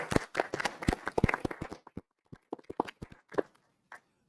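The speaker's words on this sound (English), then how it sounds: "I think she is well earned an applause for that." A small audience at a township council meeting claps quietly, the scattered claps thinning out and stopping after a few seconds.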